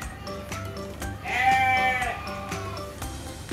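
Goat bleating at a farm zoo in Bahrain: one drawn-out, wavering bleat rises clearly over a busy background of visitor noise and chatter.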